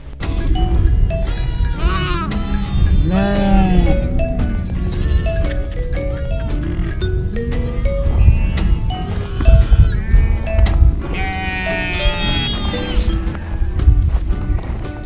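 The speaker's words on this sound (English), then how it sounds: "Check out the goats." Goats at a zoo bleating repeatedly in overlapping, wavering calls, close and fairly loud against busy outdoor background noise.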